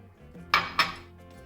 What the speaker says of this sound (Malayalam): അത് കുറച്ച് പാല് ഒഴിച്ച് കലക്കി എടുക്കണം